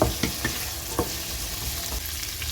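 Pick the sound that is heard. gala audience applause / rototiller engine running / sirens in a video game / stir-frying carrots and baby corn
stir-frying carrots and baby corn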